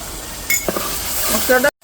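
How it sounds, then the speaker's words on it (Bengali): Spice masala for a wedding-style chicken roast sizzles in a pan while being stirred, with a scraping clink near the middle and a steady frying hiss throughout, ending abruptly. "এখন সমস্ত মশলাটাকে সুন্দরভাবে কষাইতে হইবে।"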